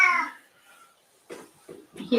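A house cat yowls loudly after leaving its litter box, a few drawn-out harmonic cries at the start, then quieter rustling and several short bursts of movement close by.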